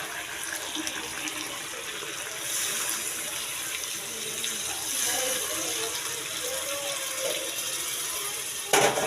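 Water pours steadily into a pot of mutton biryani, a continuous close splashing rush that swells slightly midway and carries on without pause, with no talking.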